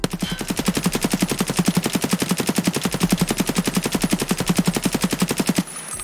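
An AKS-74 rifle in the video game Escape From Tarkov fires one long full-auto burst from a standing position: a loud, rapid, evenly spaced stream of shots that ends abruptly after about five and a half seconds.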